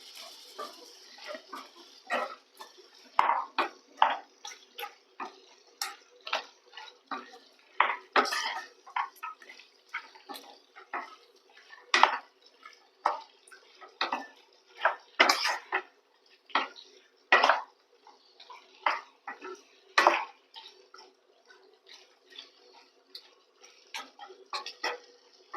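Green chicken masala being stirred in a pan produces a steady series of sharp metallic scrapes and clinks from the spoon against the pan, irregularly spaced and fairly close, with no talking.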